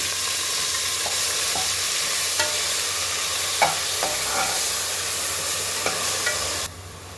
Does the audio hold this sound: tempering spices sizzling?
yes